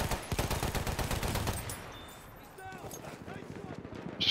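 Rapid gunfire from the player's weapon in Battlefield 1, a fast run of sharp repeated shots for about a second and a half that fades into quieter game ambience with scattered sounds.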